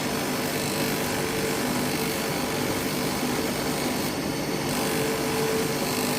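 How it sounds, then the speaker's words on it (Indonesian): Kalimaya Banten gemstone being polished on a spinning wheel gives a steady, continuous abrasive grinding whir with a faint motor hum underneath, running without a break from start to finish. "Biasanya kan umumnya proses poles seperti ini Pak ya, untuk Kalimaya Banten."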